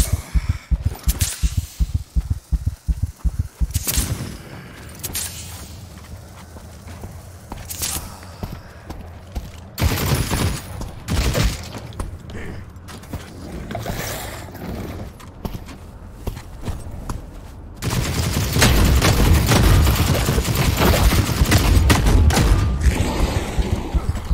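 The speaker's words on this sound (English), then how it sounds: "What's he shooting at me?" Gunfire rings out in the video game The Cycle Frontier: rapid bursts of loud shots, then scattered single reports, and finally a dense, sustained volley near the end.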